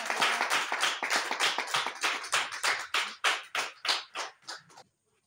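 A church congregation claps for the Lord in a steady, rhythmic beat, about three claps a second, loud and close at first and then thinning out before stopping abruptly into silence.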